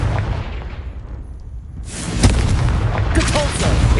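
A Confringo fire spell explodes in Hogwarts Legacy with a loud, close boom, and a dense rumbling blast and crackle follow as the impact rolls on through the fight.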